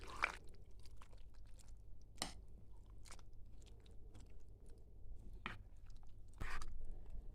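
Christmas kutia being stirred after uzvar liquid is added, giving soft, quiet wet squishing and scraping with about five sharper spoon knocks spread irregularly through it; no one talks.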